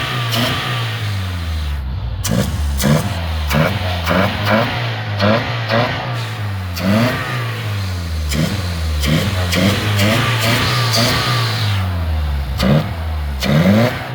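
A classic car kept with all its original parts revs its engine up and down in repeated loud, rhythmic bursts over a rough idle, close by with no talking.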